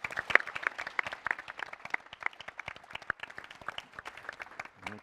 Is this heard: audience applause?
yes